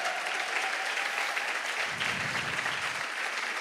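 An audience claps steadily for the production crew in a church conference hall. The applause is a dense, even patter from start to finish, with no voices rising above it.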